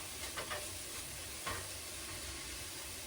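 Garlic and spices are stirred in a pan for vegetarian four-bean chili, giving a faint, soft sizzle with a few light scraping strokes over a continuous low hiss.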